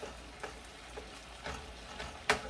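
Ground venison browning in a frying pan, a quiet steady sizzle with a few soft stirring scrapes and one sharper clatter near the end, no voices.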